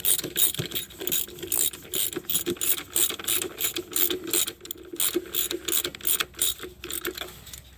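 Ratchet wrench snugging down the transmission pan bolts on a 2011-2023 Dodge Charger 3.6L Pentastar, a loud, close, steady run of rapid clicking strokes in repeated bursts, with no speech.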